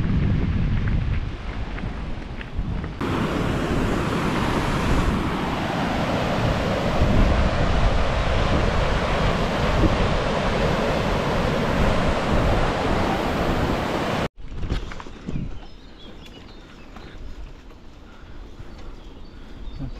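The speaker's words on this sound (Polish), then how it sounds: "troszkę więcej tej wody leci" A river in the Pieniny hills near the Dunajec runs full after recent rain, a steady, dense rush heard close up that drops away abruptly near the end and leaves a quieter wash.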